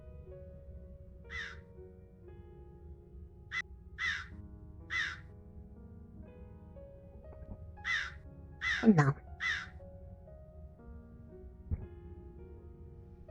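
Crows cawing, several separate harsh calls in a spaced-out series, moderately loud and clear over a low background hum, with a brief spoken word among them.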